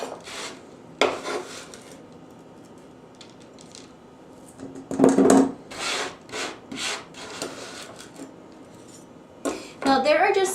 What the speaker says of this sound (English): I'm just finishing chopping off my last few strips of bacon